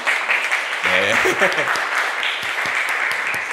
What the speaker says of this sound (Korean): 우리가 박수로 같이 환영하고 싶습니다